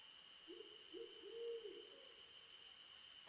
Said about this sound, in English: It is said that they hoot, hence the term owl.